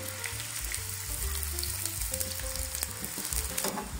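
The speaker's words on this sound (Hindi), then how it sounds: "प्याजों को ब्राउन कर लेती हूँ मैं।" Two medium onions frying toward golden brown for a mixed dal, a loud close sizzle over a low steady musical hum, with occasional stirring clicks.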